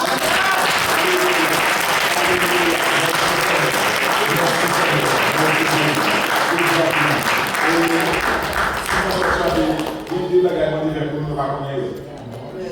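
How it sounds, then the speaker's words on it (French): A church congregation claps loudly and continuously with shouts of acclaim to the Lord, the applause thinning toward the end under a voice. "Acclamons les Seigneurs"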